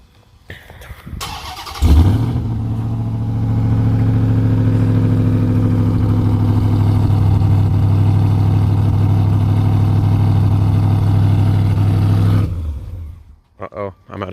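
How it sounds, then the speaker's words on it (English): A truck engine cold-starts, cranking briefly, catching and settling into a loud, steady idle, running low on fuel, for about ten seconds before shutting off. "I'll go ahead and give you guys a cold start"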